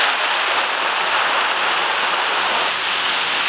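Steady rain in the Indian Bikes driving video game, a dense continuous hiss of falling water that stays loud and even throughout with no voices or other sounds.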